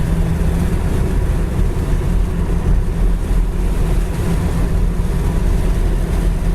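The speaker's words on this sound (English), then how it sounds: "I'm going to roll my window up a minute and see how we are for wind noise." Steady, loud low rumble of road and engine noise inside a 1971 Ford Torino GT hardtop cruising on the highway with the window rolled up, an unbroken drone with no talking.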